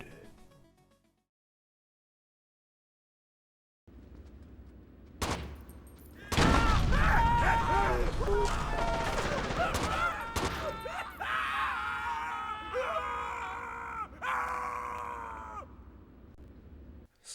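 Gunfire and voiced screams and groans from the tactical shooter game Rainbow Six 3: Raven Shield burst in after a silent gap, with bursts of shots layered under pained shouting that carries on loudly to the end.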